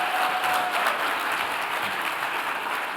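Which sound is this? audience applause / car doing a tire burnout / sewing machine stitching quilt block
audience applause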